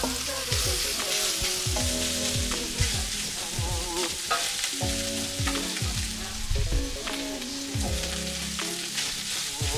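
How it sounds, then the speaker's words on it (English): Rice sears in a thin layer of oil in a cast iron pan, giving a loud, continuous close sizzle broken by scraping stirs and scattered crackles. "Just enough to do our sear in. And then we're adding the remainder of our rice."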